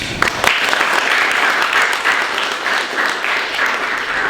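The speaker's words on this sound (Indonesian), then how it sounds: "mari kita beri tepuk tangan sekali lagi kepada kelompok penyaji" Sustained applause from an audience for a presenting group at an academic seminar session, a continuous wash of many hands clapping at fairly close range.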